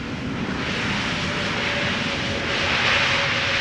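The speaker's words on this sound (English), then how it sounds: "Lufty coming in, flight 2304, reversing." A Lufthansa airliner arriving from Munich lands at Amsterdam Schiphol Airport, its engines roaring steadily in reverse thrust, a loud, continuous broadband rush that swells slightly toward the end.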